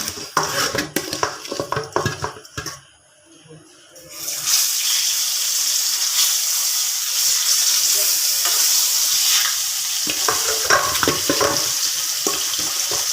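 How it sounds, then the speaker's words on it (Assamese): Fish frying in hot oil over a gas flame, opening with clattering pan and utensil knocks, a brief quiet, then a loud steady hiss and crackle of sizzling oil close by, with more scraping clatter near the end. "মই মাছ ফ্ৰাই মানে তেল গৰম হৈ গৈছে এতিয়া মই পূৰা ফ্লেমটো পূৰা সৰু কৰি দিছোঁ"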